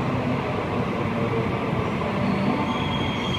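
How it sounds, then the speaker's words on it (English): A Sydney Waratah electric train arriving at a platform at night gives a steady, loud rumble of wheels and motors with faint squeal, continuous throughout with no voices. "Waratah arriving into platform number 2, Liverpool service via Bankstown"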